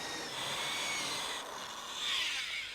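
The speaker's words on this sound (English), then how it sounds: "switch to the hole saw and finish drilling through the rest of the door" A hole saw drills through a wooden door, a steady high grinding whir that swells and eases as the cut progresses, heard alone without speech.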